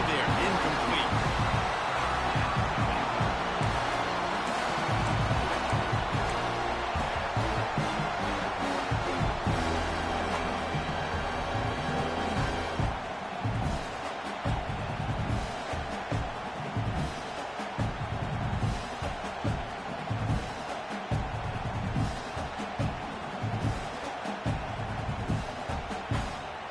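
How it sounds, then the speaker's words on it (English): Stadium crowd noise from an NCAA 26 college football video game, Michigan versus Ole Miss: a dense, continuous roar of cheering fans with some broadband swells, fairly loud and constant throughout, with commentary voices mixed in. "This crowd bringing the energy and noise early."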